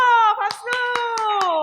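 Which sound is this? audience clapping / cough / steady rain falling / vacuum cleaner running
audience clapping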